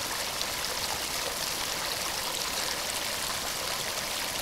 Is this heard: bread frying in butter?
no